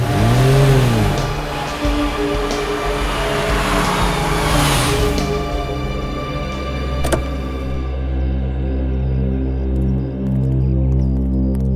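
A car engine hums and throbs steadily up close, with a brief rev early on, then settles into a low idle as the car pulls up and parks in a narrow residential lane.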